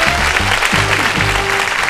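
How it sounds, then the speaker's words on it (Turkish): Studio audience on a Turkish quiz show claps for a correct answer, a short burst of dense applause, loud and close, under a low background rumble. "Alkış."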